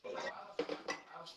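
Plates and cutlery clink and clatter as dishes are handled after a family meal at home. The short, close knocks come with a faint voice in the background.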